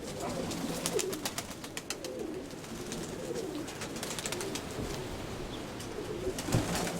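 Pigeons cooing steadily in a pigeon loft, low throaty coos repeating through a busy background with scattered chirps and faint wing flaps, fairly close and moderately loud.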